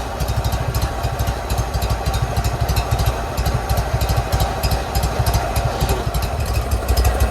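A Toro 616Z zero-turn mower engine idles steadily with a low, rapid chugging pulse that stays even and close throughout, no voices present.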